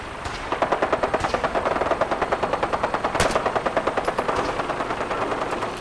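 Rapid automatic gunfire from raiders in Fallout 4, a steady burst of close, loud shots lasting several seconds with a sharper single crack partway through.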